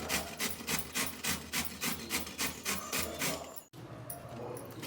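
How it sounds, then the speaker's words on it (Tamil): A carrot is scraped across a grater in a home kitchen with quick, regular rasping strokes, about eight close, even passes, then a brief pause and softer scraping. "இப்போ கேரட் சீவ போறேன். பாருங்க கேரட் எப்படி சீவுறது பாருங்க."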